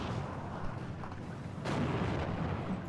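Muffled thuds of distant gunfire and artillery roll through a Steel Division 2 battle, low and faint, with a heavier boom partway through.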